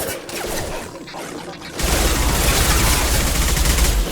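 Rapid bursts of automatic gunfire from the Mass Effect video game erupt after a quieter opening stretch, then continue as a dense, loud volley of shots with clattering impacts.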